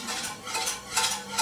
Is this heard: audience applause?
no